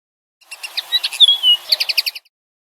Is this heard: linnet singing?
yes